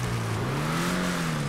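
In GTA Online, a BF Weevil fitted with a new exhaust revs its engine, a loud, close, continuous buzzing drone with the pitch rising slightly and falling back.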